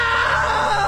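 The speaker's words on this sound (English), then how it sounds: "Now that was a great scream." A scream rings out in the video game What Remains of Edith Finch, a single loud, sustained, high-pitched shriek heard alone and close.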